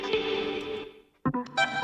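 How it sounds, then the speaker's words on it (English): A short chopped vocal loop in a future bass production, sustained and bright, then cutting out briefly before stuttering back in with rapid choppy hits. "And then I have this little vocal loop thingy"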